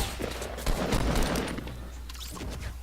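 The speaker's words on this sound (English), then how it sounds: "Starts shooting at me." Rapid gunfire from Fortnite Battle Royale rattles in a dense burst of overlapping shots for nearly three seconds, loud and continuous with no voices.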